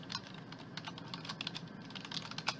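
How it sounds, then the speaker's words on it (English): Rapid, continuous computer keyboard typing clicks along quietly in the background, with no voice over it. "Sorry if you guys could hear this, the typing."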